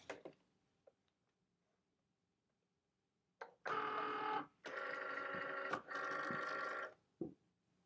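A Cricut cutting machine loads a standard grip mat holding an Infusible Ink transfer sheet, giving a few bursts of mechanical whirring and motor buzz separated by short pauses, fairly close and with no talking.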